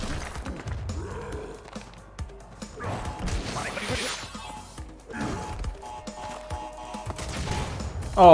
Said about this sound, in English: Oh, I thought I was far enough away from the explosion.